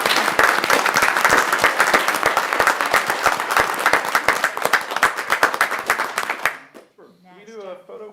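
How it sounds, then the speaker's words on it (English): A town council meeting crowd breaks into loud, sustained applause, dense overlapping claps that fade out after about six seconds, followed by a voice speaking. "So let's give them a nice round of applause."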